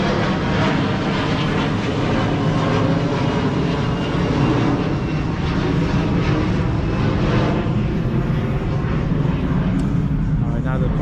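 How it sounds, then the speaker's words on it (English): The loud, continuous roar of an airplane passing overhead near an airport fills the whole stretch, masking a voice talking beneath it. "Excuse the airplane, we're by an airport."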